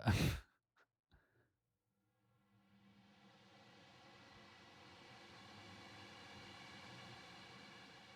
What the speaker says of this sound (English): Just air, just white noise.